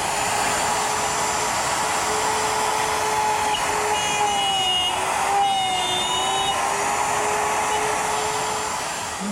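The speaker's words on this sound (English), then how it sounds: "I've installed the 1/2 inch collar on the router and installed a bit. Now I want to plunge through the 1/4 inch strip." Router with a 1/2 inch collar and bit plunging through a 1/4 inch strip, a loud continuous high motor whine that holds steady with slight pitch dips as it cuts.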